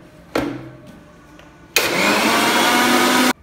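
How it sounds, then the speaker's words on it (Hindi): A kitchen mixer grinder blending curd with chaas masala, sugar and water: a brief first pulse, a pause, then a loud steady whirring run of about a second and a half that stops abruptly. "हम इसको मिक्सर में अच्छी तरह ग्राइंड करके लेंगे।"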